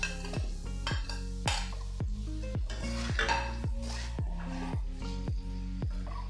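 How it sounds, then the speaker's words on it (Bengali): Fried potato pieces tumble into a metal pan of banana blossom masala for a Bengali mochar ghonto, with about a dozen sharp clanks of spoon on pan spaced through the stretch, close and fairly loud, with soft stirring and sizzle between. "এবার আমি দিয়ে দিচ্ছি ভেজে রাখা আলু"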